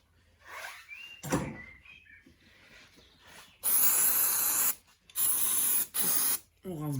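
Forged engine block parts for a Mustang getting sprayed and rinsed to clear away oily residue: a few loud, steady hissing bursts of spray, each lasting about a second, after some quieter handling noises and brief talk.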